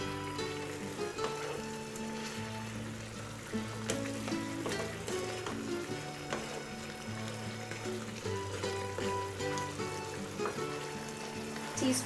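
Chicken biryani frying in a pan, a steady close sizzle with bubbling texture running throughout, heard alongside sustained background music tones.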